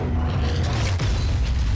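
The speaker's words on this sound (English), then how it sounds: "Boom, that explosion looks beautiful." An explosion in the Gears of War 4 video game produces a loud, dense booming rumble that fills the whole short moment without a clear decay.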